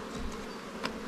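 Dense, continuous buzzing of many honey bees at an open hive in a newly made swarm colony, close and steady with brief louder passes of individual bees.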